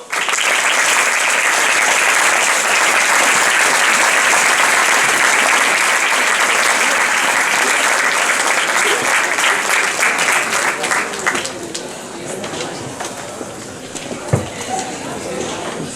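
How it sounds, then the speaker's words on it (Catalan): Loud, dense applause from the audience at a Valencian Fallas exaltation ceremony honouring the Fallera Mayor Infantil, steady for about eleven seconds before thinning into scattered claps and murmuring voices. "anem a dedicar-li un fort aplaudiment a la mantenidora de la nostra Fallera Major Infantil"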